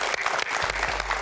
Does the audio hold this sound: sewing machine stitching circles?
no